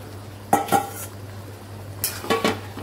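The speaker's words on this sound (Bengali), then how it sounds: "এর মধ্যে ম্যারিনেট করা মাটনটা দিয়ে দিলাম।" Marinated mutton is added to a pan and stirred with a metal utensil, giving a few scraping clinks and clatters against the pan over a low steady hum, near and moderately loud.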